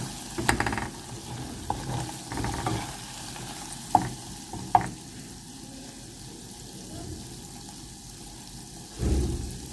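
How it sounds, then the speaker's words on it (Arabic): Milk cream sizzles steadily in a pan as it is stirred while making ghee, with a soft continuous frying hiss, a few sharp utensil knocks and a scrape near the end, close and with no talking. "وبنبدأ نقلب. اوعي تحرق منك المرتة."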